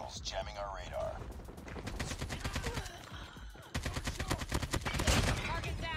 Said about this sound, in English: there is a sentry gun right here